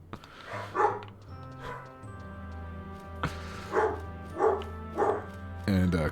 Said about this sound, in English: when the dogs are in separate rooms, like one of them will hear the other dog and bark